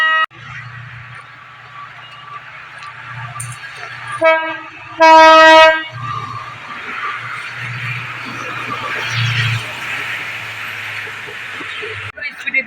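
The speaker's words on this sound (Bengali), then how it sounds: "এখন ট্রেন আসছে, ওটার জন্য শোনা যাচ্ছে না," A train rumbles past with a loud, sustained horn blast partway through, set against steady low mechanical noise.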